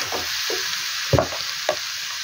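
Potatoes and jackfruit are sautéed in a pan for jackfruit curry: a bright continuous sizzle with a few scraping stir strokes, one louder clack of the spoon against the pan near the middle, no talking.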